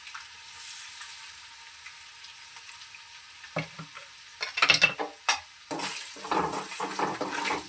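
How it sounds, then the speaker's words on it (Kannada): Green chillies frying in hot oil in a pan give a steady high sizzle, joined midway by a few louder scrapes and clinks of stirring before the sizzle swells again. "ಹಸಿಮೆಣ್ಸಿನ್ಕಾಯಿ ಚೆನ್ನಾಗಿ ಎಣ್ಣೆಲ್ಲ ಫ್ರೈ ಆಗಬೇಕು"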